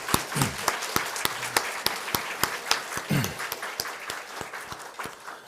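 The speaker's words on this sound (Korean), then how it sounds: "우리 권사님들 한번 환영의 박수를 하도록 하겠습니다" Church congregation applauding to welcome visiting deaconesses: a steady crowd of hand claps with distinct sharp individual claps, moderately loud, with brief murmured voices in the background.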